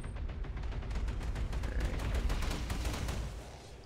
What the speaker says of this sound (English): Tog is going to be the happy recipient of a bunch of autocannon fire and some missiles.